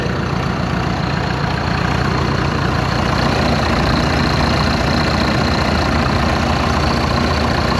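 An International TD9 bulldozer's heavy diesel engine with a cracked head idles steadily up close after start-up, a low continuous rumble with a faint knocking texture and no talking.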